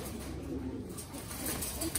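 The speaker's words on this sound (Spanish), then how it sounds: "va a sacar la paloma y para ver las características de los animales" A pigeon coos softly up close as it is brought out to be shown, with a low, repeated murmur over a steady background of noise.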